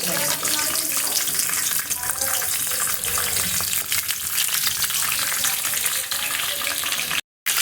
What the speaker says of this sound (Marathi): आपण आता गरम झालेल्या तेलात सगळे मसाले टाकले